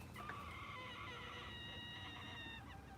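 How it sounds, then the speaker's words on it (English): A chicken clucks and chatters close by in a steady run of short calls over a constant outdoor background hum, with no talking. "Chicken's talking to us."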